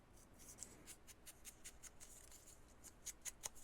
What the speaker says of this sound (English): Let's cut the bottom and that edge with a deckle edge scissors.